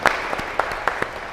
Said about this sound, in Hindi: उसके लिए बहुत बड़ी तालियां।